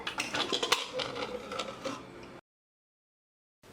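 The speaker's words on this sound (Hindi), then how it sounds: "कुकर को खोलकर देख लेते हैं" Metal pressure cooker lid being handled and opened after cooking dal, a burst of close clanking and scraping metallic clatter for about two seconds, then sudden silence.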